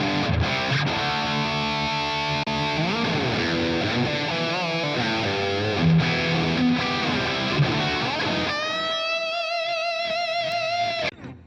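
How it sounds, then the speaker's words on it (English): Electric guitar played through a TONEX modeled EVH 5150 Stealth high-gain amp with modulation, dense distorted chords and riffs giving way to sustained ringing lead notes with wavering shimmer, loud and alone. "now we move on to the EVH 5150 Stealth. With some modulation."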